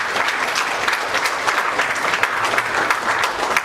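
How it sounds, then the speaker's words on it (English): An audience applauds at an Indian book launch for a Sikh-history book, a dense, steady roar of many hands clapping evenly throughout, fairly loud and unbroken by talk. "can you give a big round of applause for the gentleman"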